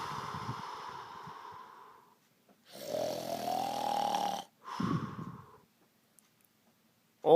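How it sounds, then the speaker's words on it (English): Cartoon animatronic bear character, Shadow Freddy, snoring in loud drawn-out breaths, several long rasping snores separated by pauses, with no talk over them. "Shadow Freddy just kept snoring."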